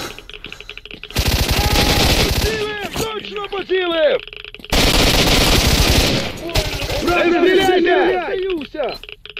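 Automatic gunfire in the game S.T.A.L.K.E.R.: Shadow of Chornobyl, two long loud rattling bursts of rapid shots, with voices shouting in between and over the shooting.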